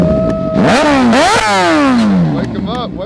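A high-mileage Honda CBR600RR with Yoshimura exhaust pipes revs hard nearby, several rising and falling throttle blips that sweep up and down in pitch, loud and raspy, with voices around it.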